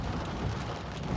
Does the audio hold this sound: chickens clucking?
no